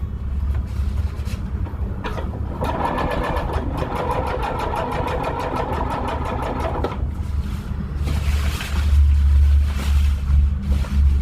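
A sewing machine stitches the ridgeline of a lightweight backpacking tarp, a rapid steady mechanical needle rattle running for several seconds amid low motor hum and handling noise, close and fairly loud.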